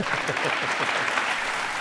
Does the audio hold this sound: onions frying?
no